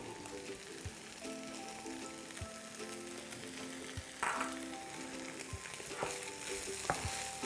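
Fried rice with onions sizzles softly in a pan as a utensil stirs and taps against the metal at intervals, close but quiet.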